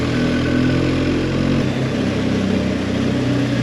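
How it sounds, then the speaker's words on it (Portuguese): BMW R1250 GS motorcycle exhaust roaring loud and close at high revs on narrow streets, a deep, thick drone that steps down in pitch partway through as the rider shifts. "O barulho do escape fica muito melhor, fica assim um barulho mais forte,"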